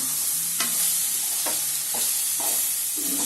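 A spoon stirs Tamil-style oil eggplant curry (ennai kathirikkai) in a pan, making about five distinct scraping strokes over a constant background sizzle.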